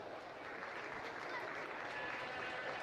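Crowd at a county fair livestock show arena clapping for the class entrants, a steady, fairly distant patter of many hands that stays even throughout, with no voices on top.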